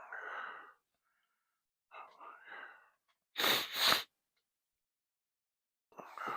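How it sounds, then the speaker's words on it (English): A single sharp sneeze from a person, loud and close, bursting out after a few soft breathy sounds and brief murmurs. "Oh, I had to sneeze."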